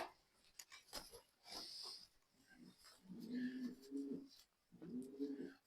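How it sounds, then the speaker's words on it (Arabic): Silver pigeons from Kuwait coo in low, throaty bursts, two clear rolling calls after some scattered rustling and soft background noise, close and moderately loud. "ده حمام سيلفر"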